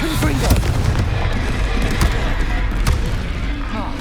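Confringo blasting spells explode in combat in the Hogwarts Legacy video game: a string of sharp, booming bursts over a dense, steady wash of game battle sound, with a voice present.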